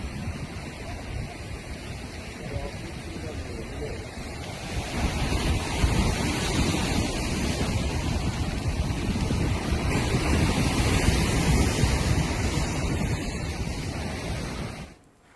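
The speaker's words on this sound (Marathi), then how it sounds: "वाऱ्यांमुळे समुद्राला उधाण आलंय।" Rough sea surging under stormy winds along the coast, a continuous loud roar of crashing surf with gusting wind buffeting the microphone, building in the middle and cutting off at the end.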